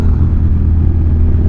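Suzuki TL1000R two-cylinder motorcycle engine revving, a loud, steady low rumble close by throughout.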